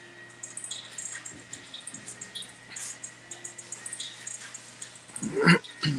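Several puppies let out of their cage, giving soft, scattered whimpers and small squeaks through a quiet indoor room, ending in a louder cluster of yelps and scuffling close by.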